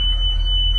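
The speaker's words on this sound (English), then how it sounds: "every time you open an emergency exit, I hear my beeper, which is what I have on my bus" Loud, continuous high-pitched electronic beeper tone from a school bus emergency exit door alarm, sounding close and steady with a low hum underneath.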